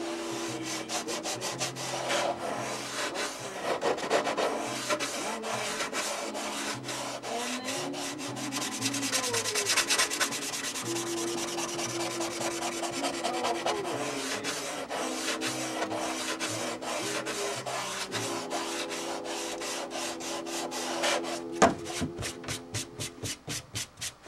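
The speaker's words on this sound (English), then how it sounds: "it doesn't take long with the sandpaper, and you can pick up pretty much all of the shapes" Sandpaper rubbing over a wooden model wing for a Stuka, steady continuous scraping strokes, close and fairly loud, with no talking.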